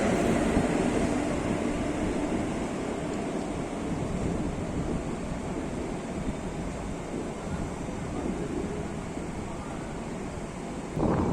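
A Howrah to Tarakeswar local train running, with a continuous rumbling roar of wheels on rails and rushing wind noise throughout, steady and loud.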